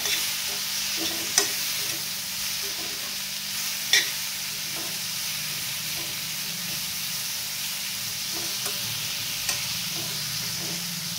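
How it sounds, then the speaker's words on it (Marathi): A lemon and green chilli pickle is stirred and sautéed in a pan, a steady soft sizzle and hiss with a few sharp clinks of the spoon against the pan, no talking. "व्यवस्थित मिक्स करून घेऊया। 2 मिनिटं असंच परतवून घ्यायचं आपल्याला।"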